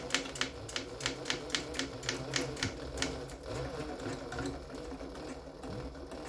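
A Yuo Tian GK-35C2 bag-closing sewing machine stitching a sack, a rapid even run of mechanical clacks at first that settles into a steady motor whir, close and fairly loud.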